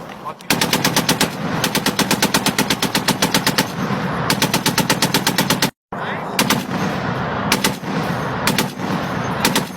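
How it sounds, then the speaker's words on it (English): Automatic gunfire from a machine gun rattles in long rapid bursts, loud and sustained, broken by a brief pause before more sharp volleys follow, amid the violent conflict in Bawku, Ghana. "It's a machine gun."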